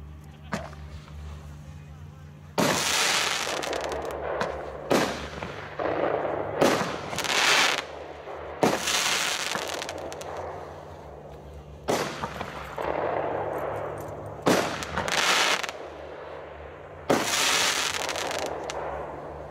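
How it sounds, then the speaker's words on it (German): A Superbombette fireworks battery of 30 mm calibre, loaded with 139 grams of net explosive mass, fires at a New Year's Eve demonstration in Gardelegen. A series of loud, sharp booms come at uneven intervals, with crackling and echo between shots. "eine Superbombette mit jeweils 139 Gramm Netto-Explosivmasse"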